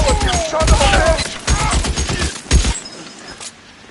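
Rapid bursts of gunfire during a shootout, loud and close, rattling in dense volleys for nearly three seconds before cutting off into a quieter tail with a faint single report.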